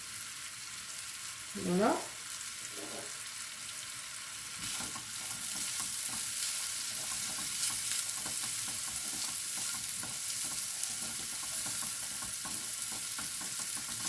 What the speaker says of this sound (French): on va aller remuer les pommes, hein, que ça brûle pas, surtout